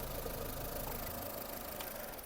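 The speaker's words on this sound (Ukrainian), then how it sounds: "Двигун працює як часи" A Skoda Fabia engine idling with the hood open, a faint steady mid-pitched hum with an even rumble and no voices.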